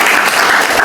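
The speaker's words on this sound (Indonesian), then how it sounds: "Tepuk tangan buat Diva." A classroom of students claps for a classmate named Diva. The brief burst is loud and close, with thick, even clapping and no speech.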